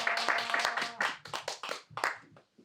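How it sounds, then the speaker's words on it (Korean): A small lecture audience at a talk on development and housing rights claps to welcome the speaker, with distinct, uneven handclaps that thin out and stop. "힘찬 박수로 모시겠습니다"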